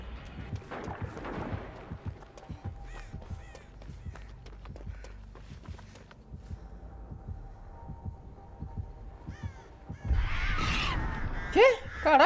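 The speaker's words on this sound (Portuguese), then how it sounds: "ela atacou o corvo certinho quando eu decidi passar" Crows caw in the video game Dead by Daylight over a thumping heartbeat pulse and scattered footsteps, with a louder flurry of cawing and flapping toward the end.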